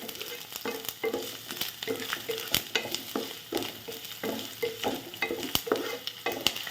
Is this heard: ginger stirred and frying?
yes